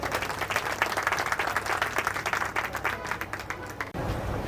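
A school reunion audience claps to welcome a performer named Shivaji to the stage, dense sustained applause from many hands that fades and then briefly resumes, with faint murmuring.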